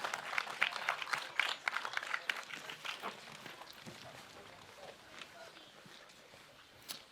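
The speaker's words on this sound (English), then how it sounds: "Round of applause, please, for your DRS100 podium." Scattered applause at a DRS100 sim-racing event for the podium finishers, brisk at first and thinning out over several seconds, fairly quiet and close.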